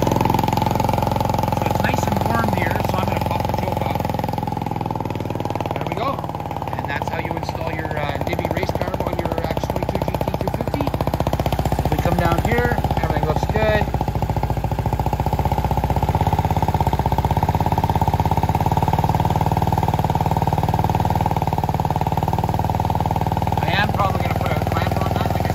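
A Venom X22GT 250cc automatic motorcycle fitted with a Nibbi race carburetor, choke on, idles steadily and loud nearby for the whole stretch, with a mechanical clattering rattle and some voices talking over it.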